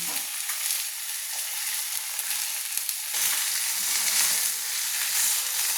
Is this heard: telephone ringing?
no